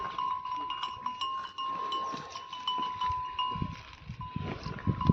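A herd of buffaloes heading off from grazing, their bells clanking in an irregular ringing jumble with soft hoof shuffles and thuds, fairly faint and outdoors.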